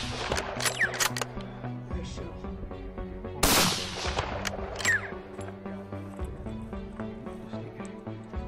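A rifle shot fired at an elk on a Michigan hunt rings out as one loud, sharp crack near the middle, set against steady background music and scattered clicks.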